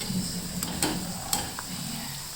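Manchurian balls deep fry a second time in oil, a low steady bubbling sizzle with a few light clinks of a utensil against the pan, close and fairly quiet.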